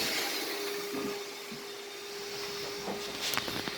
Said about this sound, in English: In the meantime, Carlos is vacuuming all the edges and all the blinds, removing some pet hair.